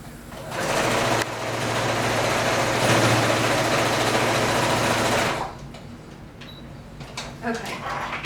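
A sewing machine runs steadily through quilted fabric at the corners of a quilt tote purse, a loud continuous motor whir lasting about five seconds before stopping, followed by faint handling noises.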